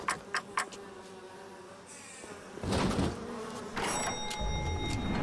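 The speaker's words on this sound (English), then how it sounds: "I don't want to get jumped by the bees" Bees in the BioShock video game, a buzzing insect drone rising to a louder, sustained hum in the second half, with brief sharp clicks near the start and no talk.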